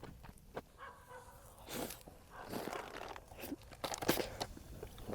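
Crunchy chewing and biting on king crab packed with roe, eaten outdoors at a campsite in Gongju; irregular close crackles and crunches with some mouth noise, no talking.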